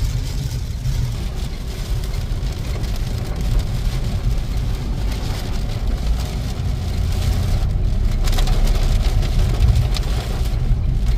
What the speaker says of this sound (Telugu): ఇంకా అసలు భయంకర బాగా వర్షం వస్తుంది